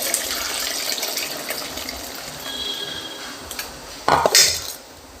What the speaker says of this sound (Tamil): இந்த புளியை கரைச்சிக்கிடுவோம். நல்லா கரைச்சிட்டு அப்படியே இதில் ஊற்றிடுவோம்